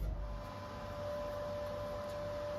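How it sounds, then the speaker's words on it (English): A MIG welder's cooling fan runs steadily in a workshop, a faint, even whir with a constant hum tone and no change throughout. "excuse the noise of the fan in the background off the welder"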